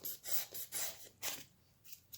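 Sandpaper is rubbed over a block of XPS foam to smooth its surface, a series of soft, raspy back-and-forth strokes in uneven rhythm. Quiet and close with no talking.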